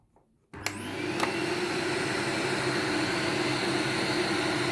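A Bush bagged cylinder vacuum cleaner switches on with a click and spins up to a steady, loud whooshing drone at its lowest speed, with no voice.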